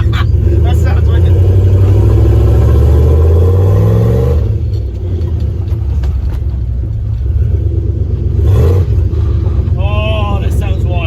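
A turbocharged LS-swapped Caravan with a sneaky exhaust roars loud and close, engine revs climbing and falling in swells before settling into a heavy idle rumble and then a quick blip at the end.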